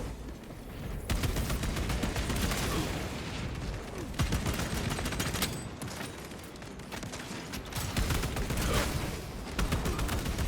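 Dense, continuous gunfire from the video game Warhammer Space Marine 2, loud sustained bursts of rapid shots with brief drops between volleys, layered with explosive booms and mechanical clatter.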